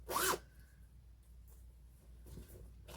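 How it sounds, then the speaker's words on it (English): A zipper with a decorative fairy pull zips open a fabric travel bag in one quick, close rasp, then near silence follows. "if I could ever open up the bag, with my pretty fairy zipper pull"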